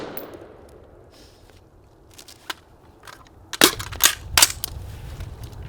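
A long gun fires at a target in a few sharp, separate shots, a lone one followed by a tighter cluster of three, each a crisp crack with a brief tail over a quiet background.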